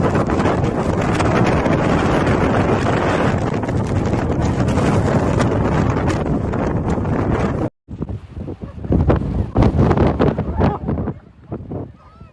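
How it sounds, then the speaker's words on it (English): Blizzard wind in Manzhouli roars loudly and continuously, buffeting the microphone in a dense rushing gale, then breaks off briefly before gusting back in uneven surges. "Winds howled at gusts of 9 to 11 on the Beaufort scale, driving a relentless barrage of snow"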